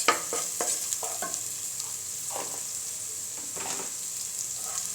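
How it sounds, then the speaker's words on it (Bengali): Spices sizzle and crackle in a pan with water spinach and prawn while being stirred, giving a close, steady frying hiss broken by short scraping strokes of the spoon. "এগুলো আমি খুব ভালোভাবে একটু ভুনে নিচ্ছি"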